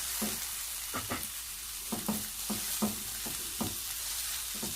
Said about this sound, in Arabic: انا كده حطيت معلقه السمنه بتاعتي. هنزل بقى بالبصل.